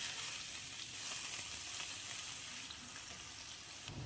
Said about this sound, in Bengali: এবারে ফ্রাই প্যানে আমি দিয়ে দিচ্ছি পেঁয়াজ কুচি।